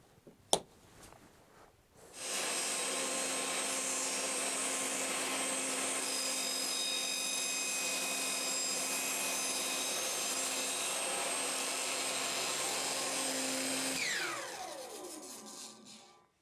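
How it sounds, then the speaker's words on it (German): A table saw makes an angled miter cut, starting abruptly with a loud, steady whine that holds for about twelve seconds before spinning down. "Jetzt probieren wir das Ganze mal, sägen das an der Tischkreissäge"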